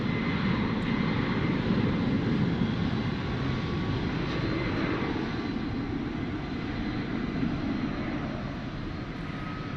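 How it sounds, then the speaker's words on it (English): An MD-11 jet airliner at Dallas Fort Worth International Airport gives a loud, continuous engine roar heard from the ground, holding steady and easing slightly toward the end. "All right, let's see where this MD-11 goes."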